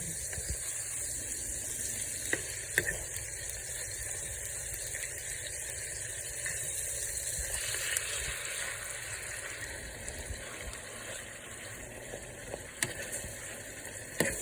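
Sloppy joe meat mixture with crushed red pepper and sugar cooking in a pan, giving a faint, steady sizzle with occasional soft clicks and rattles, no talking.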